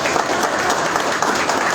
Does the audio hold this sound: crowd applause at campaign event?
yes